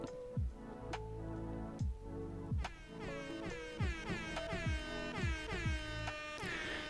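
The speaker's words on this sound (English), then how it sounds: "Got some air horns, maybe some claps." Synthesized air horn sound effects blast in short stabs over a looping electronic beat with thumping kicks and claps, several bright horn bursts stacking up near the end.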